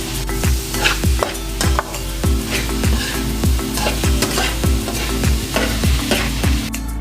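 Honey garlic chicken sauce being stirred in a hot pan, with a steady sizzle under a regular scraping rhythm of about two spoon strokes per second, loud and close.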